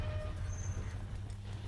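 A train rumbles past in the video game Bioshock 2: a steady, dense low roar with faint high squeals over it, continuous throughout and with no talking.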